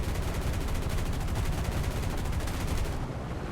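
A B-17 Flying Fortress bomber's machine guns fire in War Thunder, a loud, rapid, continuous rattle of bursts over engine roar that eases off near the end.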